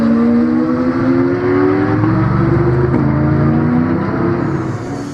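Loud, close roar of race cars, including a Porsche, competing at the Magny-Cours circuit, with sustained engine drones shifting in pitch as several cars pass and overlap without a break.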